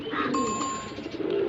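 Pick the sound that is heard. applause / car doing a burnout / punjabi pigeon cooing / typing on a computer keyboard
punjabi pigeon cooing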